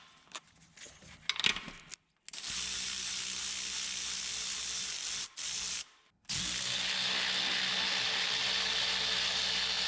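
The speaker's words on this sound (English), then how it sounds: "Using your 14mm, remove the two bolts that holds the bracket on from the upper intake to the alternator." A ratchet with a 14mm socket clicking as it removes bracket bolts between the upper intake and alternator on a Dodge Ram 3.9/5.9 engine; a few handling clicks, then long continuous ratcheting runs broken by brief pauses, close up.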